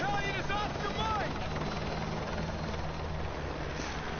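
A helicopter in the Call of Duty: Modern Warfare 2 campaign remastered drones steadily with a low, continuous rotor rumble, fairly quiet and persistent throughout.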